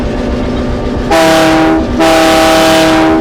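A loud locomotive horn sounds in two long blasts near a crossing, the second beginning right after a brief dip, with steady rail rumble underneath.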